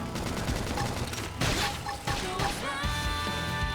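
Rapid video-game gunfire from Xenoblade Chronicles X combat, dense bursts of shots and impacts layered with battle effects and music, continuous and loud.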